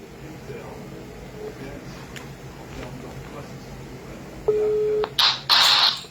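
A telephone call being placed: a steady electronic tone sounds for about half a second, then repeated ringing or dialing tones pulse loudly over a faint background murmur of voices.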